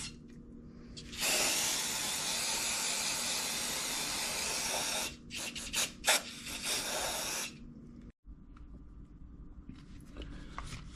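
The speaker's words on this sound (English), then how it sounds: "we're going to spray it on here, not let it dry" Super Clean degreaser is sprayed onto an aluminum intake manifold from a Chevelle SS454, a close hissing spray in one long burst followed by several short sputtering squirts, with a quiet pause between.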